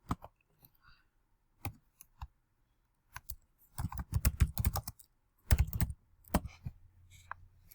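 Typing on a computer keyboard to enter a chart title, with sparse keystrokes at first and then bursts of quick clicking close up. Nobody speaks.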